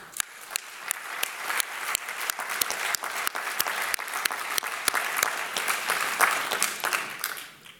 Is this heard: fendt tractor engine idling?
no